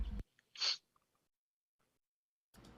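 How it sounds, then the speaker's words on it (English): A single sharp sneeze bursts out close to the microphone, short and loud, set between muffled sounds in an otherwise quiet room. "Had a sneeze."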